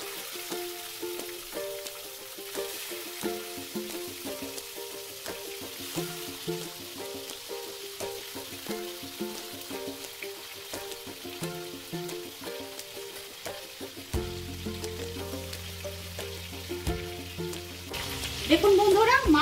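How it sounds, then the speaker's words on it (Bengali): Fish frying lightly in hot oil, a continuous bubbling sizzle with fine crackles pulsing steadily, close and moderately loud, with a clatter near the end and no speech. "এখন আমি মাছগুলোকে একদম হালকা করে ভেজে নেব।"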